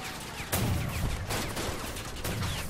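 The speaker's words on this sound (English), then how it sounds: "I'm getting shot at" Gunfire in the Crossout vehicle combat game: a steady, dense rattle of shots with sharp louder bursts recurring about every second, close and loud.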